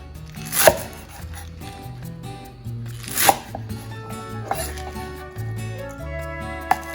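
A knife chops through thick garlic chives on a board for cucumber kimchi, with a few sharp, distinct cuts spaced a couple of seconds apart, close up with no talking.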